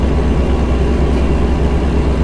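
Steady low engine drone from inside a truck cab in American Truck Simulator, a continuous loud rumble with no talk over it.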